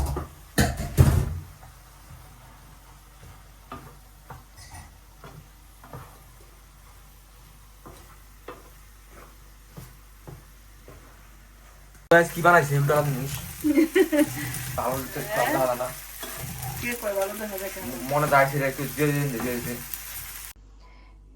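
Food frying in a home kitchen pan, a sizzle that starts after a quiet stretch of faint ticks and clicks. It continues under chatty talk and a laugh.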